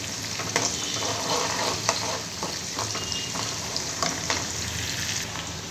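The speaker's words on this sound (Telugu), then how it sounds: "ఆనియన్స్ అయితే ఫ్రై అవ్వాలండి" Onions fry in a pan for a Telugu home-style bitter gourd fry, giving a steady, soft sizzle. Occasional scraping stirs and clinks are heard close by, with no voices.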